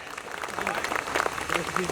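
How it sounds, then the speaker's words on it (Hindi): An audience at a Kanpur Hindi comic poetry gathering applauds, a moderate dense patter of many hands running throughout, with voices faintly mixed underneath. "जोरदार तालियां बजाइए साहब"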